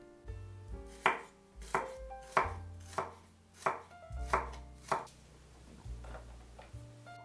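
A knife chopping zucchini and green, red and yellow peppers on a cutting board, with about nine sharp, fairly evenly spaced chops over a soft background of music, no talking.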